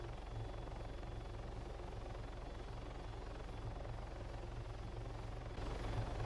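ARMA 3 game helicopter in flight at altitude, a continuous low rotor thrum with a faint turbine whine, steady and near, swelling slightly louder in the final second.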